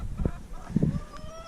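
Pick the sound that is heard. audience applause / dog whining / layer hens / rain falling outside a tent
layer hens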